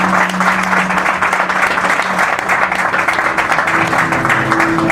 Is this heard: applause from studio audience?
yes